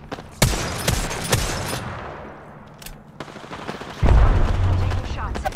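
Apex Legends combat gunfire: several sharp, loud shots spaced out over a few seconds, mixed with scattered distant firing and a heavier burst near the end.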